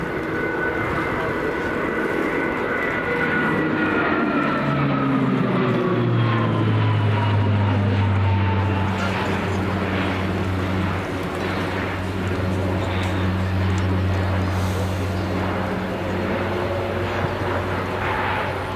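A C160 Transall military transport aircraft performs a flying display at RIAT 2024, its turboprop engines droning loudly and steadily with a pitch that drops as it passes overhead, sustained throughout.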